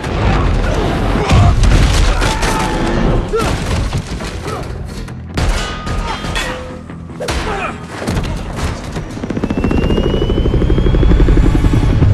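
A helicopter's rotor thrum runs beneath loud booms, thuds and crashes in a chase scene from the Uncharted film, with brief indistinct voices amid the chaotic, action-filled din.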